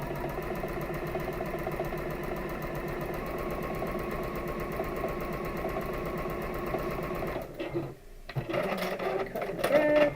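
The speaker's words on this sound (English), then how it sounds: "I'm going to go ahead and sew this on." A sewing machine runs steadily while stitching quilt pieces together, a fast even mechanical whirr that holds for most of the stretch, then stops abruptly, followed by a few faint handling noises.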